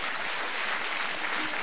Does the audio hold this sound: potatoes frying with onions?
no